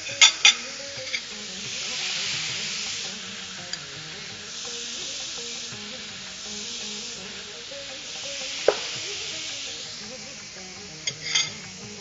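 Beetroot sautéing in a pan, a continuous low sizzle under slow stirring with occasional sharp clinks and taps of a spatula on metal, no one speaking.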